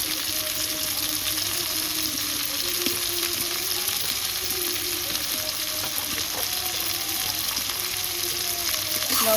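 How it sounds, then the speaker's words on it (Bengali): Rohu fish curry frying in a pan while being stirred after salt goes in, a continuous close sizzle with scraping stir strokes and no voices. "লবণ দিয়ে নাড়ছি বন্ধুরা"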